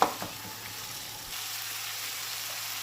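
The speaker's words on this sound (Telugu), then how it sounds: "టమాటా ఫ్రై అవుతుంది కదా కొంచెం ఫ్రై అయిన తర్వాత నేను బఠానీలు గ్రీన్ పీస్ తీసుకున్నానండి అది బాగా ఫ్రై చేసుకోవాలన్నమాట" Tomatoes and green peas fry in a pan for Karnataka-style vangi bath, giving a steady sizzle throughout with a soft stirring clatter near the start and no talk.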